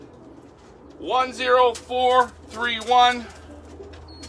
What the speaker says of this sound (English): I think this is the Len Briggs pigeon